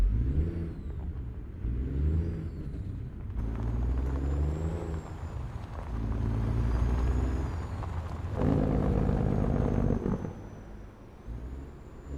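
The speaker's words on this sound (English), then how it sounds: "The truck sounds absolutely awesome." A simulated semi truck fitted with a modded Detroit 60 series engine revs up and settles in repeated rising and falling swells, with hissing air brake bursts and a whining high tone over the steady diesel drone.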